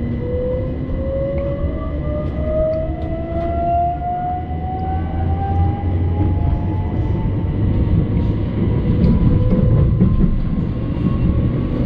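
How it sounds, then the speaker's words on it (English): A steady rumble inside a moving c2c train bound for Tilbury, with a rising whine of traction motors as it accelerates and a low rattle throughout. "here we can take a look at the interior of our train and listen to its sound."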